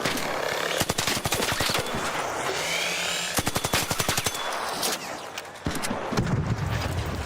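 Automatic gunfire in ARC Raiders aimed at a surveyor, with several rapid bursts of loud, close shots separated by short pauses and ending in a heavier impact.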